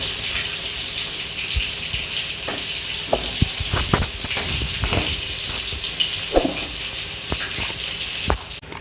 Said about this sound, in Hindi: अब इसको अच्छी तरह गोल्डन ब्राउन कलर आने तक भी हम इसको फ्राई करेंगे